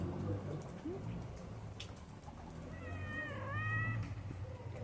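A small female cat gives a drawn-out meow, quiet and a little distant, over a soft background of rain, with a brief chirp-like sound earlier.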